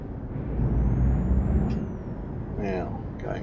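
A truck's air brake released in Euro Truck Simulator 2: a sharp pneumatic hiss-and-click over a steady idling diesel engine, followed by further short air bursts as someone talks over the rumble.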